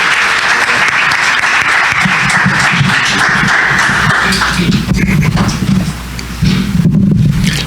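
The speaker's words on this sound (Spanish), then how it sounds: "al cual recibimos con un caluroso aplauso." Audience at a lecture on Mexico's independent government applauding to welcome a speaker, loud, sustained clapping throughout with a low rumble of room noise underneath and a brief dip before it swells again.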